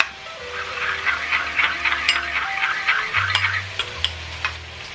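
Spices being stirred into tomato paste thinned with a little water, heard as soft scraping and clinking of a spoon in a pot close by, with a low steady hum underneath.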